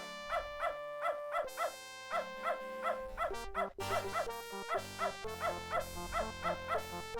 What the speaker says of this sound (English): Oh wait, I hear the dog now.